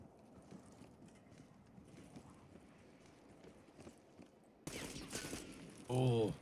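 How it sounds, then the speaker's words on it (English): Faint, rapid bursts of video game gunfire patter in the background, and a voice briefly comes in near the end. "Space throwing some shots over at Mick and Honey"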